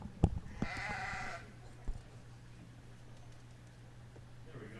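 Hampshire ewe lambs at a county fall fair sheep show give one clear bleat early on, with a few sharp knocks nearby and a steady low hum of the venue behind.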